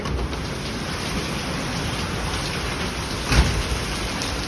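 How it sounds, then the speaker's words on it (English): Hail pelts the ground and water during a heavy severe thunderstorm in Kannapolis, a steady dense hiss of impacts with one brief louder knock near the end, no talk. "You can hear all that hail hitting the ground, hitting the water."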